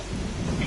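Rain and thunder in Fallout 76 on PlayStation 4 Pro, a brief burst of dense rainfall hiss with a low rumbling undertone, steady and fairly loud with no voices.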